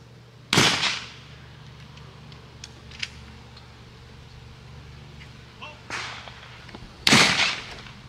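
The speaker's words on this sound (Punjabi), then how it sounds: "ਕੁਛ ਲੋਕ ਟਰੈਪ ਖੇਡ ਰਹੇ" Shotgun shots at a trap shooting range at the Calgary firearms centre, with three sharp blasts spread out, one early, a nearer one near the end, plus some fainter pops and a low steady hum between.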